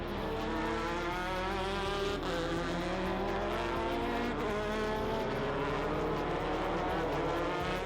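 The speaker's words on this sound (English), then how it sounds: "so these things really whip around the track." GT500 race cars of upwards of 500 horsepower scream around the circuit at a Japanese Grand Touring Championship exhibition race, a loud, continuous roar of several engines with rising and falling pitch.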